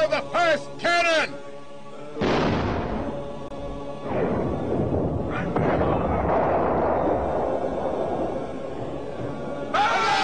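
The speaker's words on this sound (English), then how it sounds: "Fire the first cannon!" A heavy siege cannon booms in a battle over a medieval city, a deep loud blast followed by a long rolling rumble, after a shouted voice and with another boom near the end.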